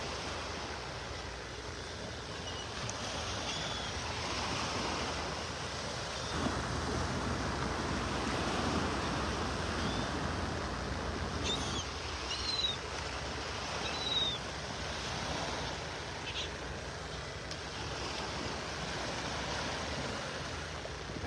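Ocean waves wash steadily onto the beach by Naples Pier, a continuous broad surf roar with some wind buffeting the microphone and a few faint bird calls high above.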